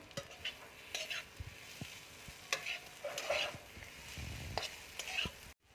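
A spoon stirs a vegetarian pointed gourd stuffing mixed with chopped coriander in a hot pan. Repeated scraping strokes and light clinks sound over a steady low sizzle of frying.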